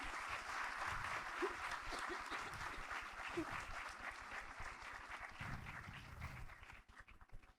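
A church congregation at a convention breaks into sustained clapping, a dense wash of applause that holds steady for several seconds before thinning out near the end.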